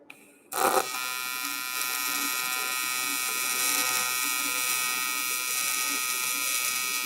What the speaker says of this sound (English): we'll run a little bit more of this fillet weld